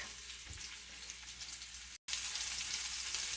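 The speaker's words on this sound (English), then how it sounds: "All we're doing is searing them." Meat sears steadily in a hot pan, a dense, continuous sizzle holding at an even level with a brief dropout in the middle, no voices present.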